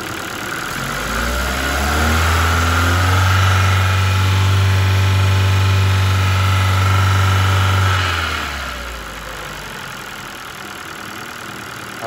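Ford Focus III 1.6-litre PNDA engine revs from idle up to a steady raised speed, holds there for several seconds, then drops back to idle; loud and close, with no talk.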